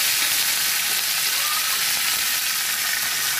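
Curry leaves and coriander sizzle in hot oil alongside browned chana dal for spicy kara urundai, a steady, loud, even hiss of frying that runs without pause from start to finish.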